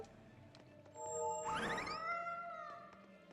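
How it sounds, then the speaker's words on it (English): A cat's meow from the video game Tales of Berseria, one drawn-out moan-like cry with rising and falling tones, fairly faint and heard alone over soft game chimes. "That didn't sound quite like a meow so much as a moan"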